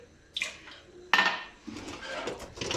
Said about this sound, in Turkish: Bulaşıklarımı bir yerleştireyim.